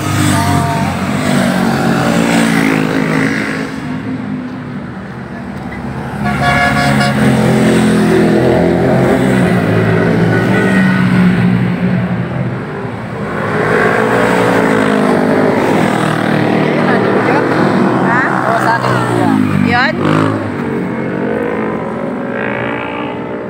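Many motorcycles riding on a motorcycle tour in Zambales, a loud continuous engine roar swelling and easing as bikes pass close by, with shifting revs and a brief voice faintly under it.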